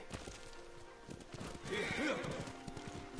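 A horse whinnies in the game Ghost of Tsushima, a bright neigh rising in the middle over steady clip-clopping hooves, with ambient outdoor game sound throughout.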